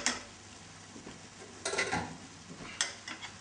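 Rice being stirred into a thick, dry vegetable biryani masala in a pot, with soft scraping and clinks of the spoon. Two sharper scrapes stand out over a low sizzle.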